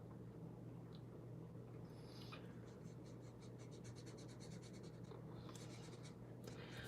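A marker colours in flower and leaf shapes on a card, making soft intermittent squeaky strokes in short bursts over a steady low background hum, close and faint.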